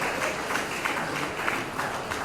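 A gathered audience gives brief, moderately loud applause to the film's actors, a dense wash of clapping that stays even throughout.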